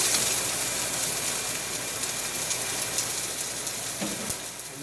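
Garlic cloves and rough-cut shallots frying in hot oil, giving a steady, close broadband sizzle throughout with a soft clack of a utensil near the end.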